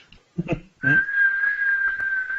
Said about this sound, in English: No, I whistle. I'm gonna whistle.